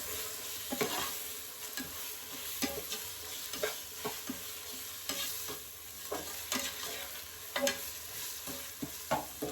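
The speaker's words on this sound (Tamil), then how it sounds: "இந்த இஞ்சி பூண்டு பேஸ்ட் அதோட வாசனைலாம் போற அளவுக்கு நல்லா வதங்கணும்." Ginger garlic paste sautés in a pan for a vegetable biryani, a steady close sizzle punctuated by repeated scraping stirs of a spoon, with no voices.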